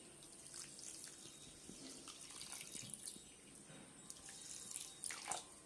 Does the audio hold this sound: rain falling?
no